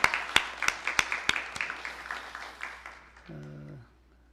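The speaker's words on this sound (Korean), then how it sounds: "감사의 박수 보내겠습니다." A church congregation claps in thanks during a Sunday service: a few sharp, separate claps at first that thin out and fade, followed by a short tone near the end.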